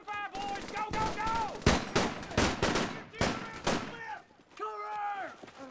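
Gunfire in a war video game, with rapid bursts of automatic shots and sharp single cracks layered over shouted voices, loud and dense throughout.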